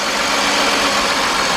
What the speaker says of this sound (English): Oh yeah, we got a misfire.